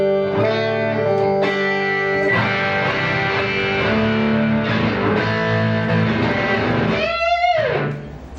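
An electric guitar played through a Blackstar HT-range effects pedal straight into a PA with no amplifier gives a sustained, distorted chord riff, loud and close, ending in a wailing bent note that fades out.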